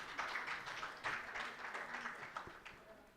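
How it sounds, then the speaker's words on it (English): An audience applauding at an official policy event in Nigeria, a faint, fairly distant patter of clapping that rises and falls in waves throughout the short stretch. "Another round of applause"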